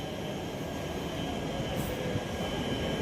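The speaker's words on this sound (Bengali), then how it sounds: "ট্রেন দাঁড়িয়ে আছে স্বর্ণনগর এক্সপ্রেস, বিকাল 5টায় ছাড়বে, যাবে জয়সালমীর টু যোধপুরের উদ্দেশ্যে।" At Jaisalmer railway station, the Swarnanagari Express stands at the platform amid a constant broad rumbling hum of idling train and station noise, steady and moderately loud throughout.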